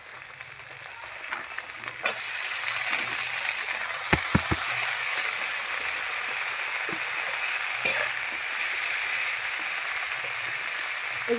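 Khorkul leaves are stirred into a pan of frying food, giving a steady, even sizzle with a few sharp pops and scraping knocks of stirring, close and moderately loud, with no talk.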